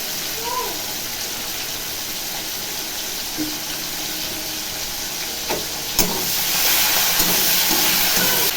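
Shrimp frying in oil tempered with spices, a continuous hiss and sizzle that swells louder partway through, with a sharp clack midway.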